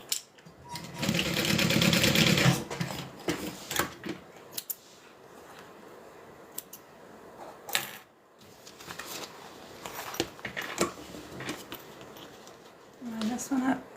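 A sewing machine basting attachment pieces in place on a zip-around wallet, running in a loud burst near the start, then in shorter intermittent runs with handling noises between them.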